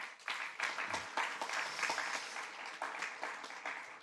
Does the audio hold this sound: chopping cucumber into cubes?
no